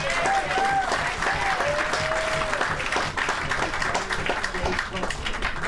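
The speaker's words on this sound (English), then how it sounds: "nice round of applause for Mr. Dave Konig" Loud, sustained audience applause fills a comedy club room at the Friars Club after a comedian's set, with a voice briefly heard over the clapping early on.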